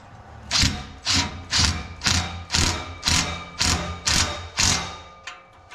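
Ratchet tightening an exhaust fitting on a school bus, heard as eight evenly spaced, sharp clicking bursts close by, with no speech over them.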